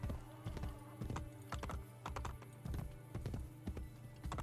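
Horse hooves in the video game Assassin's Creed clip-clop in a steady, regular rhythm, close and clear, with a hollow, slightly artificial quality.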